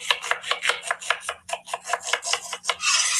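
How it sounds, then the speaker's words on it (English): Knife finely chopping onion on a board, a quick close run of sharp rhythmic cuts, about a dozen strokes in steady succession with no voices. "Chop the onion finely."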